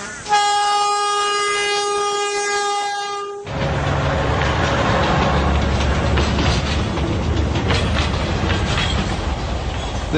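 A train on an old gold rush era line in the Gulf country sounds a long, loud multi-tone horn blast, then rolls past with a heavy, continuous rumble and clatter of wagons, alone with no voices.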